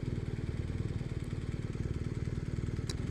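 A BMW R 1250 RS motorcycle at a steady cruise, its boxer engine thrumming in an even low pulse, close and continuous with a faint brief click near the end.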